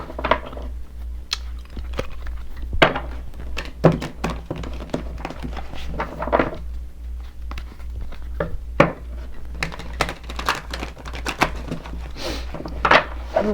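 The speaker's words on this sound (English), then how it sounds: "I'm getting a little better at shuffling this deck." Tarot card deck being shuffled by hand, a long run of soft irregular thunks, riffles and taps, close and steady over a low constant hum with no talk.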